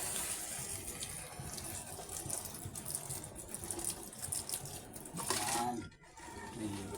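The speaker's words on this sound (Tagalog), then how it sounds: "Tapos lagyan ko siya ng konting tubig guys," A small amount of water is poured into a cooking pot of vegetables with stock cubes, a steady close trickle and splash running for several seconds beneath a speaking voice.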